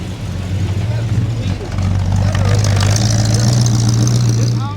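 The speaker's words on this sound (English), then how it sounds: "The cars are still definitely coming in." Engines of classic cars rumble and idle nearby as they roll into a classic car show at a Long Beach swap meet, a steady low drone that swells slightly midway and stays loud throughout.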